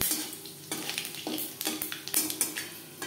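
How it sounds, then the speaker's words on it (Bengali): Bay leaf and panch phoron spluttering in hot oil in a wok for a rohu fish curry, crackling sizzle broken by repeated sharp scrapes and clinks of a spatula against the metal. "তেজপাতা 5 ফোড়ন 15-20 সেকেন্ড ভেজে নেওয়ার পর দিয়ে দেব আলু।"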